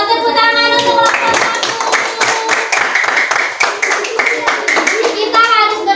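A group of schoolchildren clapping for a classmates' group in a classroom, a loud close burst of rapid, uneven handclaps lasting several seconds, with children's and adult voices before and after.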